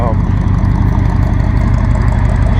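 A 1975 Jeep Cherokee Chief engine idles with a low, steady rumble close by and a constant throb, filling the whole stretch without pause.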